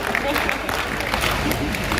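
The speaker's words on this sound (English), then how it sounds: "If you want to get younger, so please clap loud." Audience clapping at the Golden Eagles awards event, steady dense applause mixed with crowd murmur and background chatter, moderately loud throughout.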